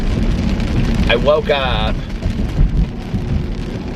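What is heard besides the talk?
pouring rain and thunder in Indianapolis at night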